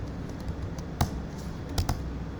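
Computer keys tapped during a CentOS 8.2 OpenVPN setup, as in a copy shortcut: a few sharp, close clicks, two louder near the middle, over a steady low hiss with no talk.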